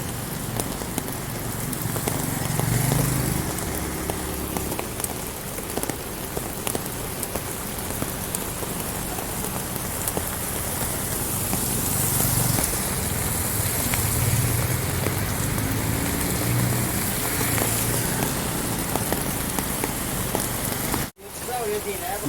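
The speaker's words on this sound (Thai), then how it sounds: "ฝนมันตก รถก็ติด" Steady rain pours down on an outdoor Khlong Thom flea market in Thailand in a dense, constant hiss, with faint background noise and occasional louder patches.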